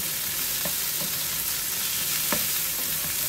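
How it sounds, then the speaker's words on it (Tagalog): Shrimp sautéing in a pan give a steady, dense sizzle, with a few soft utensil taps on the pan; no voices. "Ginisa ko muna yung hipon para hindi siya masyadong malansa"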